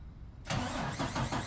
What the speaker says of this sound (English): the truck driver moved our container into position to be unloaded